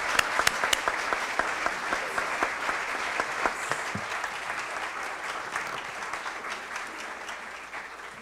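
An audience at a European Union foreign-policy talk applauds to welcome EU High Representative Federica Mogherini, steady sustained clapping from a crowd that slowly thins toward the end.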